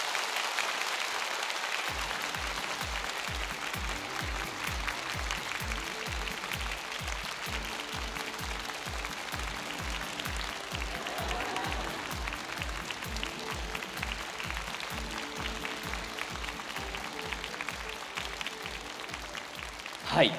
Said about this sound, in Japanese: 皆さん拍手でお送りください。